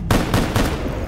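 Rapid automatic gunfire in ARMA 3, a loud close burst of several shots in quick succession with no pause.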